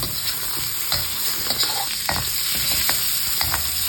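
Meat sizzles steadily in a hot pan while being stirred, with scraping strokes at an uneven rhythm under a constant frying hiss, loud and close.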